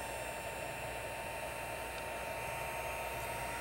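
A heat tool blows a steady, loud whooshing hiss with a faint hum as it melts gold embossing powder on a small art trading card. The drone stays unbroken throughout, close up and with no voices.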